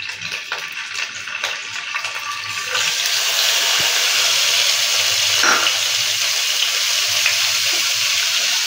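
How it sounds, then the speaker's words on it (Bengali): Paneer pieces dropped into hot oil for a paneer dish begin frying with a steady, loud hiss that swells after the first few seconds and holds, with a brief bubbling flare midway. "এইবার তেলটা গরম হয়ে গেছে, এর মধ্যে পনিরগুলো দিয়ে দিচ্ছি"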